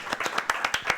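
A small audience claps for a panelist at a music industry conference, with a handful of steady, fairly faint hand claps in a quick rhythm and no voices over them.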